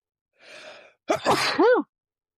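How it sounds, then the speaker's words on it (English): A nearby sneeze: a soft breathy intake first, then a loud, explosive burst with a short voiced trailing sound. "I'm gonna sneeze."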